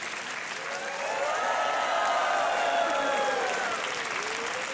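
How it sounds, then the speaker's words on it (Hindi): Studio audience applause on a television quiz show set, a dense, steady wash of many hands clapping that swells slightly and holds for several seconds, with faint tonal music threading through underneath. "तालियां बजती रहे देवी और सज्जनों"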